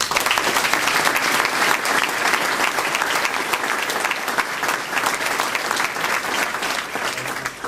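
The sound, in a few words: audience applause at an event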